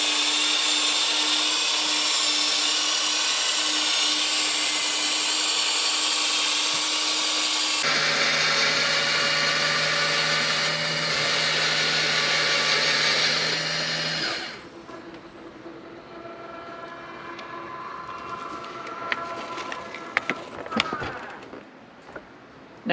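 A powered awning motor retracts on a 2020 Airstream Globetrotter FBQ travel trailer with a steady, close whirring drone that shifts pitch partway through. It cuts off after about fourteen seconds, leaving quieter scattered clicks and handling noises.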